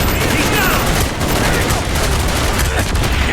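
Sustained bursts of automatic gunfire crackle loudly throughout a Call of Duty Black Ops match, dense rapid shots layered with faint voices in the background.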